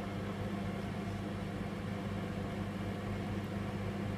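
A microwave oven runs while cooking meringue, giving a steady, low, even hum with constant noise and no change, quiet and unbroken, with no voices.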